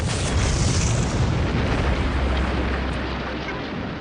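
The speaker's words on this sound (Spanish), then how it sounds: "se produjo una explosión." A deep, rumbling mine explosion roars continuously and slowly fades, heavy and distant-sounding, with no voices.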